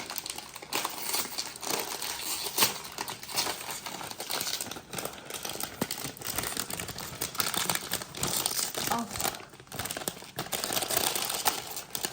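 Loud, close crinkling and crackling of a plastic bag of Takis snacks being torn open and handled, continuous rustling bursts with no talk.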